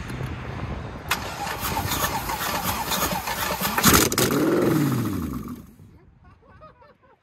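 A 5-litre Mercedes V8 swapped into a BMW E36 cranks, catches and fires up loudly after a sputtering start, settling briefly before dying away.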